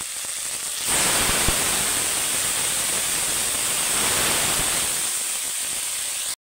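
Water poured into garlic and ginger paste cooking in a hot pan for rohu fish curry sets off a loud, steady hissing sizzle that swells suddenly and holds for several seconds with no talking.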